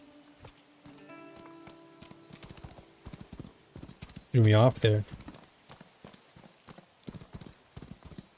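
Horse hooves clip-clopping at a slow, even pace in the video game Where Winds Meet, a steady stream of hoofbeats with a loud whinny in the middle while someone talks over it.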